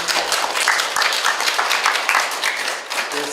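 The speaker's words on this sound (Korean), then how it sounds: "인사아트 프라자 박복신 회장님에게 박수 한번 보내주시기 바랍니다." A forum audience in an art venue claps together, a thick, continuous round of applause from many people nearby that holds steady and then tapers slightly toward the end.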